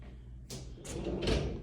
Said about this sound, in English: pocket door, saving on space